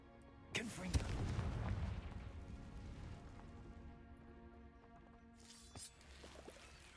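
A Confringo fire spell blast in Hogwarts Legacy bursts out as a sharp crack followed by a rumbling, crackling explosion that fades over a few seconds, with a second fainter impact near the end.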